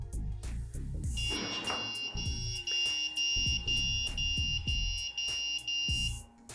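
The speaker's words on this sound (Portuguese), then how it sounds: "até minha bancada já apitou aqui, a placa-mãe deu bip" A motherboard on a test bench, wired to a faulty graphics card, gives an error signal: a single long, steady electronic beep that holds for about five seconds over low clatter and hum.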